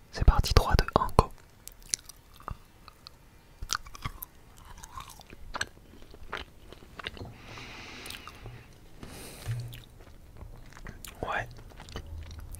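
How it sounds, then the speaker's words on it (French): Close, crisp chewing and biting on a shoe during a French ASMR tasting, with irregular crunchy bites and mouth sounds spread throughout and soft whispering in between. "Est-ce que vous êtes prêts à la dégustation de cette chaussure?"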